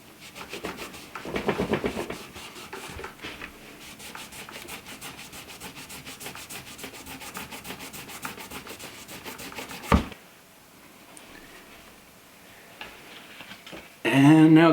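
A microfiber cloth rubbing oil cleaner and conditioner onto a musical instrument, a soft rapid scrubbing swish for about ten seconds, then quieter handling and a brief bump.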